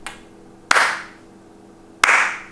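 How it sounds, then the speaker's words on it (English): Two single loud hand claps spaced over a second apart in a slow-clap rhythm, each close and sharp with a short ringing decay, against a quiet background. "that's too fast for a slow clap"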